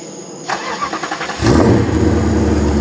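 A BMW E63 cranks with a rhythmic starter whir for about a second, then catches and settles into a loud, deep, steady engine rumble close by.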